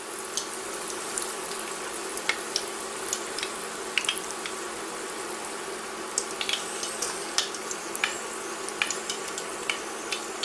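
Greek diples, spiral pastry dough, deep frying in a pot of oil, giving a steady, faint sizzle dotted with small irregular crackles and pops throughout.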